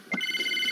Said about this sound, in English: I'm not answering that phone.